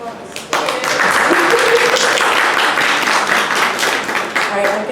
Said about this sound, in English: Applause, applause, applause.